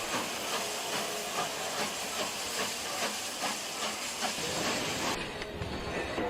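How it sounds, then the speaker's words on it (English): Steam engines pushing passenger coaches slowly along a track, a continuous hiss of steam with rhythmic chuffing pulses and rail clatter, ending in a brief change of tone. "Together, the engines pushed the coaches back to a crossover."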